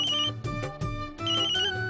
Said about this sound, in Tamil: அர்ச்சனா தான் ஃபோன் பண்றா.